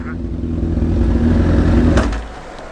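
A Suzuki Gixxer sport motorcycle being ridden, engine rumbling and revving up close with wind noise, a brief clatter near the end before the sound eases off.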